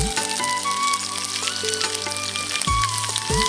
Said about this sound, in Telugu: నూనె గరం అయినాక జీలకర్ర ఆవాలు వేసుకోవాలి